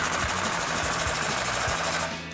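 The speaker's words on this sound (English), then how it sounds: "we'll grab our impact 13mm socket" An impact wrench fitted with a 13mm socket tightens the front ball flange of a Borla S-Type dual exhaust on a Silverado 1500, giving a steady, loud buzzing hammer with fast rapid pulsing throughout, easing slightly at the end.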